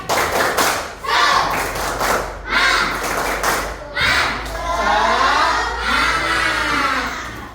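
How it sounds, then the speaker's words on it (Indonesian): A group of students claps together in a rhythmic burst, loud and close, in a classroom, with children's voices shouting and cheering over the clapping. "Kasih tepuk semangat."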